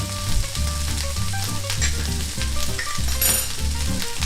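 A finished dish sizzles steadily in a hot pan during a final stir, a close, continuous frying hiss under a layer of background music, with no talking.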